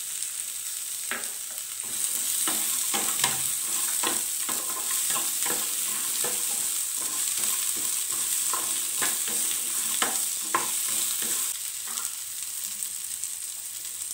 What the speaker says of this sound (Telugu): అవి కూడా ఇందులో వేసేసుకుని ఫ్రై చేసుకోవాలి.